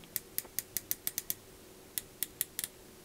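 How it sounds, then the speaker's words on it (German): A unidirectional dive watch bezel on a 42 mm case clicks as it rotates, giving a close series of crisp, evenly spaced ratchet clicks, a short pause, then a few more clicks. "Einseitig drehbar. Klickt super sauber ein. Hört ihr das?"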